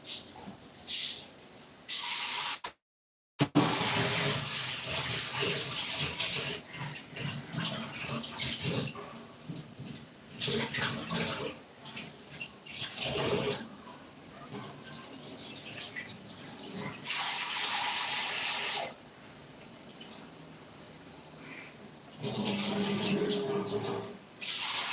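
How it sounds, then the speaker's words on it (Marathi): Toor dal being rinsed clean in a home kitchen, with splashing, trickling water and grains swirled in intermittent bursts, fairly quiet and close. "तुरीची डाळ घेतलेली आहे. स्वच्छ धुवून घेऊया आता."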